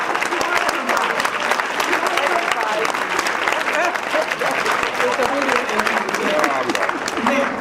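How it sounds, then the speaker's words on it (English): Steady, dense applause from a banquet audience fills the room, many hands clapping at once at an even level throughout, with no clear voices on top. "I want you to stand up again and just give them a applause."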